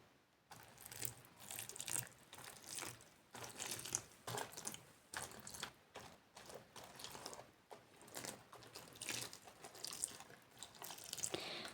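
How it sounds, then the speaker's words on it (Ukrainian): Water is poured onto pepper seedlings in pots, a soft irregular trickling and splashing that comes in short bursts, close and quiet, with no talking. "Тож я буду поливати."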